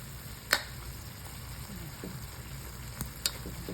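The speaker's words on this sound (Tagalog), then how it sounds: "Pinip-fry ko siya sa oil" Pre-cooked chicken wings fry in hot oil with a steady, dense sizzle, broken by a few sharp clicks of stirring around the pan, close and continuous with no talk.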